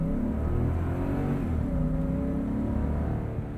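A 2021 Lexus LX570 SUV with a 5.7-liter V8 accelerates, giving a steady, loud, low engine rumble and drone with rising tonal harmonics, heard from inside the cabin without voices.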